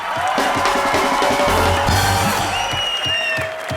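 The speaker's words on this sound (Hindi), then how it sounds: "खुल के तालियां एक बार शाहरुख भाई के लिए।" The Comedy Nights With Kapil studio audience claps and cheers loudly, a dense wave of applause with whoops rising above it.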